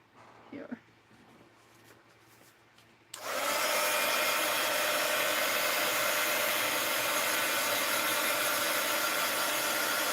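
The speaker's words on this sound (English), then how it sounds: "I'm going to hit it with the heat gun. See if I can't dry some of that." A heat gun switches on with a sudden jump and keeps up a loud, steady roaring blast close by while drying a wet mixed-media art journal page, after a quieter stretch with a few faint sounds.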